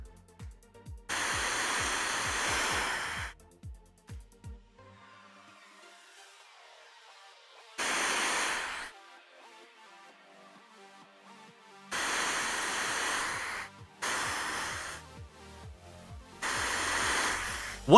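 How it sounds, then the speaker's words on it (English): White noise plays from a phone speaker into a Blue Snowball iCE microphone in loud hissing bursts, alternating with near-silent gaps as the phone is moved around the mic. "So I have queued up here on my phone just some white noise"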